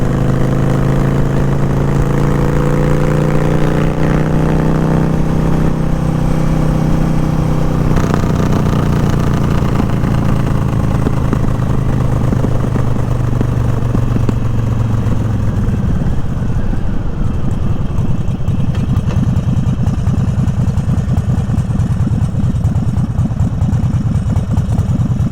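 A sport bike engine growls loud and close, its pitch rising and falling through revs and gear changes before settling into a rougher, steady drone, with no voices.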